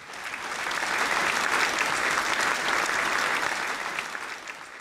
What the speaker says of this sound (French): on va sortir les applaudissements